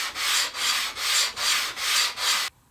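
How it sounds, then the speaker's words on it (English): Sandpaper rubbed back and forth over MDF wood with light pressure: six even, rhythmic scratchy strokes, close and clear, then an abrupt stop. "the sandpaper on the MDF will be your friend here"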